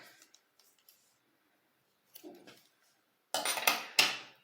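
Scissors snip through crochet yarn while finishing a tiny amigurumi bear: a few faint clicks, then two louder, close crisp cuts near the end.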